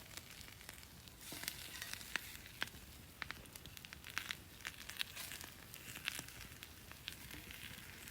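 Rabbit meat sizzling and crackling as it goes into a hot pan over a bush campfire, a faint, steady fizz broken by scattered sharp pops.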